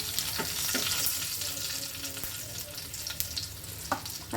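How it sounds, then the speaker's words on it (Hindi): Egg masala frying on a tawa over a low flame gives a steady, soft sizzle with a few brief stirring clicks and scrapes, heard close and alone. "हल्का हल्का ये लो फ्लेम में आपको फ्राई करना है"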